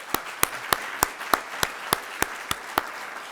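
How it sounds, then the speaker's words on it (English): Sharp, evenly spaced claps ring out about three times a second at a business competition event at the University of Baltimore, each hit distinct and close, like a single rhythmic clapper or a small group clapping in unison. "Let's give these 6+ participants another round of applause"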